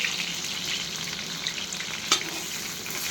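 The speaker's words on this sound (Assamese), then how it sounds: "তেল গৰমত চব্জি ভাজোঁ" Onion and vegetables frying in hot oil, a steady soft sizzle with occasional stirring clinks and one sharper scrape, no voices.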